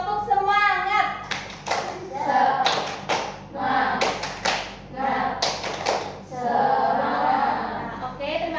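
Group of children clapping a rhythmic chant in a classroom, bursts of claps in patterned rhythm alternating with chanted voices, loud and close, with children's voices throughout.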